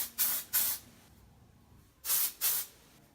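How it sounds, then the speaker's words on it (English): Texturizing hair spray hisses from an aerosol can in four short, close bursts: two quick sprays, a pause of about a second, then two more. "you always shake everything really well, but you spray in the direction of the hair."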